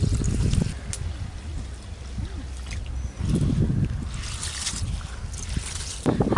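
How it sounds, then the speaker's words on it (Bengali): Soaked rice is washed in water in a home kitchen, with sloshing, swishing bursts and a trickle of water. The sound comes close and fairly loud, in uneven splashy waves. "যে রাইসের জন্য চাল নিয়েছি, চালগুলো এবার ধুয়ে নেবো ভালো করে।"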